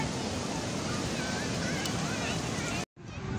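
Sea waves washing up on a sandy beach, a steady broad wash of surf with wind noise on the microphone, loud and continuous before cutting out briefly near the end.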